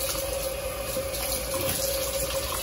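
Tap water runs steadily and evenly while a hair system is shampooed and conditioned during cleaning, a constant close rush with no talk over it.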